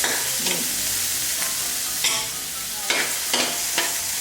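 Shrimp stir-fry in a hot pan with champignon mushrooms to follow, a close bright sizzle broken by several sharp scraping stirs of the spatula, with no talking.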